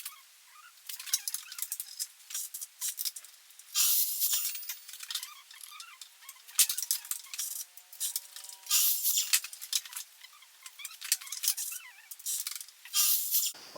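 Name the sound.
cutting frame dividing pieces to size for camper van bed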